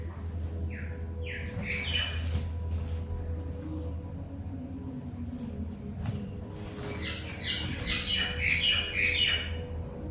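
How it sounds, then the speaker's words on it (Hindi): Several birds chirp and call in short repeated bursts, some close and bright, others farther off, over a low steady hum of background noise with no talking. "परिंदों की आवाजें कितनी अच्छी लगती हैं"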